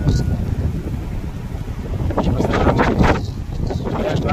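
Strong sea waves crash near a seaside house ahead of a typhoon's landfall, while gusting wind roars across the microphone, a loud, churning wash with surges.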